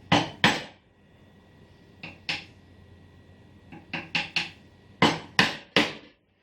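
A chisel struck with firm mallet hits to chop a mortise in timber, giving about a dozen sharp, close knocks in small clusters separated by short pauses, loud and clear with no talking.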